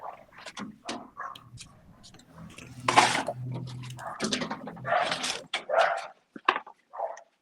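A dog whines and yips in short, uneven bursts close by, with brief pauses between the cries.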